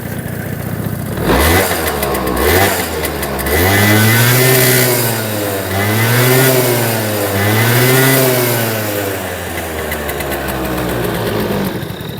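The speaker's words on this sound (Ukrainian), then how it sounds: "Двигун працює на відмінно." A small 20-year-old Honda Dio AF34 scooter engine revs up and down repeatedly, rising and falling pitch in several close, loud bursts with idling between.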